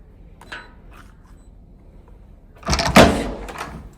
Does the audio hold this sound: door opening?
yes